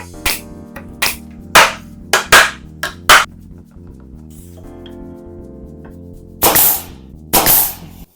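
A nail gun fires nails into a wooden board during a shelf build: about nine sharp, loud pneumatic bangs spaced unevenly, the last two trailing into a brief hiss, with no talk.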